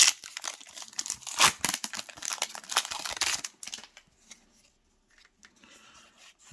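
Crisp crinkling and tearing of a Pokémon card booster pack wrapper from a Fusion Strike Elite Trainer Box, a dense run of close plastic rustles for several seconds that then thins to a few faint rustles.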